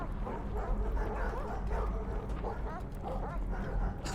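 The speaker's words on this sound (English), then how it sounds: "You awake to the sound of distant barking." Distant dog barking and yipping in the Antarctic survival game The Pale Beyond, repeated barks carrying over a steady low rumble of wind or ambience, with voices faintly present.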